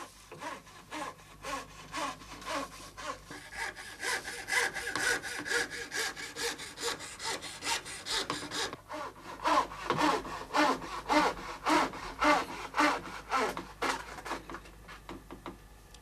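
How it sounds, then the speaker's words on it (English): A fine saw cuts out stained pear wood backgrounds for decorative veneer panels, making quick, even rasping strokes that grow louder and faster toward the end, close up and with no voices. "the backgrounds for the panels have to be sawn out"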